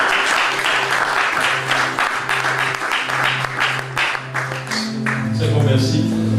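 A church congregation breaks into sustained, crowded applause, a dense wash of clapping from many hands that continues throughout while a voice talks over it.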